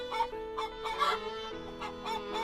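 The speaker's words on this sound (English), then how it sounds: "Chickens could be heard clucking in the spacious garden." Chickens clucking in a spacious garden beside an old-fashioned Japanese house, short bursts of clucks repeating over a steady harmonic background.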